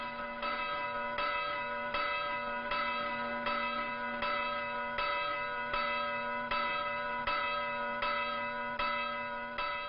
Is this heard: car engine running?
no